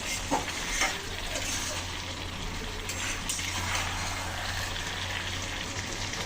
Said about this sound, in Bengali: এখন ঝোলের জন্য আমি দিয়ে দেবো জল